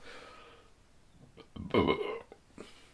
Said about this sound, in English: Carbonation is making me burp a little bit.